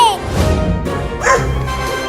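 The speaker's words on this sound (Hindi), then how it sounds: "अरे बाप रे, ये इतना बड़ा कुत्ता कहाँ से आ गया मुझे खाने के लिए?" A big cartoon dog barks in a couple of deep, close woofs, closely matched with animated voices.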